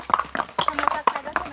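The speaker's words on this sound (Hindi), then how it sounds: "तो ये घोड़े के ऊपर की जर्नी है, घोड़े पर हम लोग बैठे हैं" Close horse hooves clop in a quick, regular rhythm during a horseback ride at Matheran, while a person talks over the steps.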